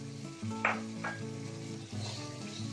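Strained, cooked tomatoes go into hot oil in a kadhai during a mushroom curry, bringing a soft, steady sizzle with brief stirring scrapes over a background hum of music.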